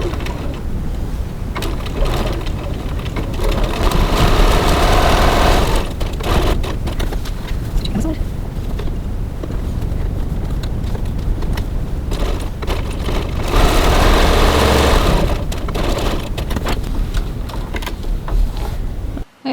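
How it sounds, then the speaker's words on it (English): A sewing machine stitches a cross body bag at a 2.4 stitch length, running as a steady, fairly loud whir that continues almost without pause through the whole stretch. "Now I'm stitching with a stitch length of"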